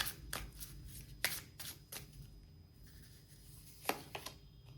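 Tarot cards being shuffled in soft, quick riffling bursts, with several distinct flutters and taps spread over a few seconds, close but quiet, with no talk.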